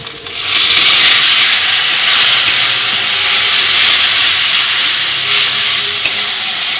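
Water is splashed into a hot kadai of spiced chicken kosha masala, setting off a loud, broad steam hiss that swells at once and holds steady for several seconds before easing slightly.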